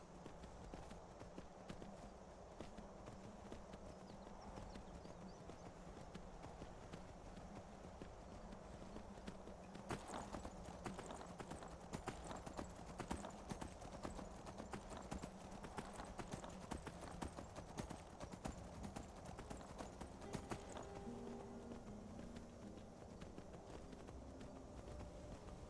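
Horse hooves clip-clop in a steady galloping rhythm in the Skyrim video game, a continuous run of hoofbeats over game ambience with occasional clatter.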